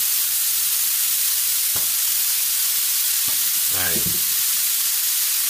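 Chopped onion sautés in olive oil in a pan, a steady loud sizzle and crackle that runs throughout, while a single brief word is spoken over it.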